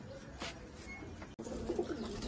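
Pigeons in a loft give low, soft cooing calls over a steady background hiss, with a brief dropout midway and a few clearer coos toward the end.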